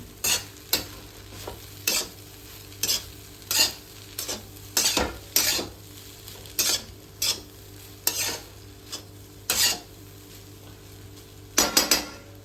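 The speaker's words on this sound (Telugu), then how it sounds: "ఫైనల్గా ఒకసారి కొత్తిమీర వేసాక కలిపేసుకొని ఇది కూడా కలిపేసుకుందాం" Egg fried rice with fresh coriander being stirred in a pan, a steady run of sharp spatula scrapes and clinks against the metal at an uneven rhythm over a low background hum, close and clear with no talking.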